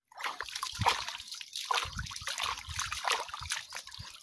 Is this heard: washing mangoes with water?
yes